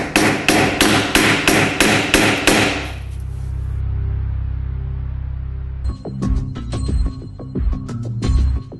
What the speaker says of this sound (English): you can just tap it in with a hammer